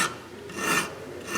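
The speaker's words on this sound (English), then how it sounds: "make a nice radius down here with a round file. Even if it's a chainsaw file" A round chainsaw file rasps across the metal of an Emmert pattern maker's vise, shaping a radius in steady back-and-forth strokes, close and fairly loud with no talking.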